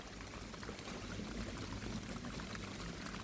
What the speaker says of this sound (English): and the water just runs off